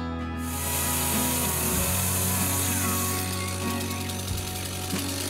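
A loud, harsh power saw grinds and buzzes steadily through bamboo, with a high-pitched whine early on and rough rattling as the cut continues.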